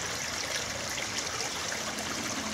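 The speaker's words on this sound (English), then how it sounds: "Walking over the River Oughton" River Oughton, a chalk stream, flows with a steady, close, broadband rush and trickle of running water, continuous and unbroken with no voices.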